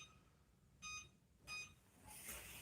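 Kitchen timer being set while making BBQ nachos, two short electronic beeps about half a second apart, fairly quiet, followed by a rustling clatter.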